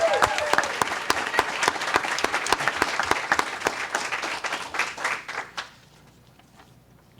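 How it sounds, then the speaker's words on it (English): Audience at a county school board meeting bursting into sustained applause, dense clapping that carries steadily for several seconds, then thins and fades into quiet near the end. "give Lee Webb and Denise Goodwin a big round of applause"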